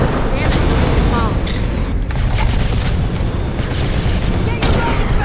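Rocket launcher fire and explosions roar through a Terminator Salvation firefight, a dense, loud, continuous barrage of blasts and gunfire with crackling debris, while voices shout over it throughout.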